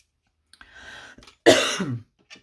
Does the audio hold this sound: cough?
yes